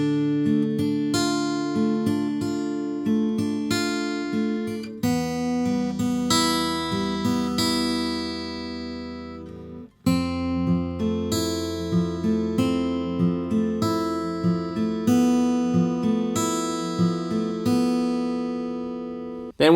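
An acoustic guitar fingerpicks the bridge of a song, steady picked arpeggios moving through several chords with a brief pause midway, close and clean with no talking.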